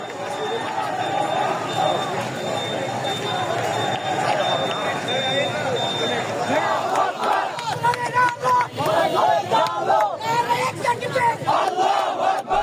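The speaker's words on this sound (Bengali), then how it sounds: "এ সময় বুয়েটের শিক্ষার্থীরা ইসকন নিষিদ্ধ ও আইনজীবী আলিফ হত্যার বিচারের দাবিতে বিভিন্ন স্লোগান দেন।" BUET students on a protest march chant slogans together, a loud sustained crowd roar that turns into rhythmic, pulsing group shouts.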